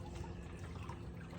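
Sugar water runs from a valve at the bottom of a 55-gallon drum, a soft steady trickling and pouring stream, faint and continuous without talk.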